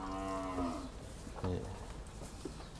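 Cattle at a livestock market in Tak province, Thailand, give two loud, close moos, a long drawn-out one at the start and a shorter one midway, over a murmuring market background.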